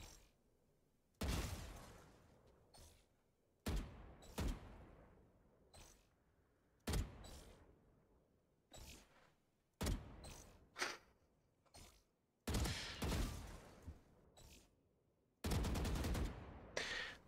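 Gunfire in Valorant from a gun aimed at a wall at head height, heard as loud, sharp bursts and single shots repeating at irregular intervals with brief quiet gaps between them.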